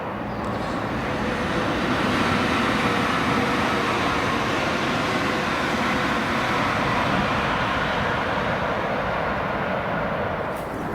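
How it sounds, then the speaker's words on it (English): A train rolls past on a railway beside a walking path, a broad, steady roar of wheels and rumble held at near-constant loudness throughout, close by and with no talk over it. "it looks like we're coming down by a railway, so it's going to get noisy for a bit"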